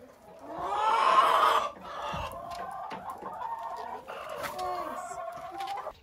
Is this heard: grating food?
no